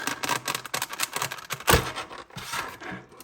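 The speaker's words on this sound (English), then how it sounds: "Just remove the plastic cover." Crinkly plastic cover pulled off a boxed 1:400 scale Gemini Jets Amerijet Boeing 767-300ER BDSF model airplane, a close run of dry rustling and scraping with one louder crackle midway.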